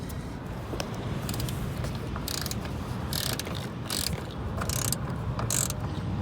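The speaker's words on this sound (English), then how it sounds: "we're gonna take this bolt out with the 5/16 socket and then place our ground on" A socket wrench turning a 5/16 bolt out on a 2001 7.3 Powerstroke diesel, heard as repeated close, crisp ratchet clicks in quick bursts over a low background rumble.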